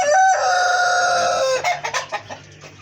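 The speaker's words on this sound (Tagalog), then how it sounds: "Ito yung hen natin." A hen gives a loud, drawn-out call followed by a run of short clucks, close by on a farm.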